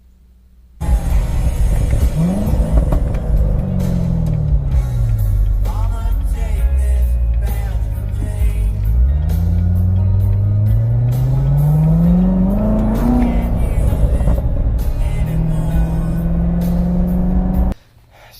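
A 2019 Corvette Z06, Hertz 100th anniversary special edition with a 6.2-litre supercharged V8, is revved repeatedly for about seventeen seconds, engine pitch climbing and falling in long sweeps, loud and close with a deep, steady rumble underneath.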